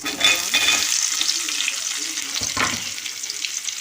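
Onions sizzle and sauté in a hot pan for vermicelli upma, a steady dense frying hiss close by with brief stirring scrapes, no talk.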